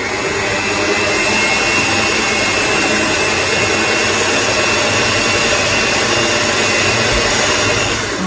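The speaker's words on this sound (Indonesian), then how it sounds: "Kita mixer lagi sebentar." An electric hand mixer whirs steadily through banana orange cake batter with added milk, a loud, continuous close motor drone with a faint rattle of the beaters, unbroken from start to finish.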